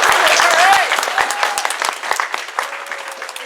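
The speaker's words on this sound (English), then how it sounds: "you can clap for them now" Crowd at a university convocation applauding the helpers, a loud burst of clapping that gradually thins and fades over a few seconds, with some voices mixed in.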